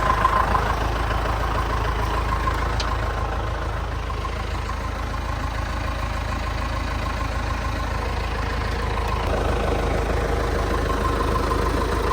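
A tractor engine idles steadily with a low, constant rumble, close by and unchanging for the whole stretch, with no voices.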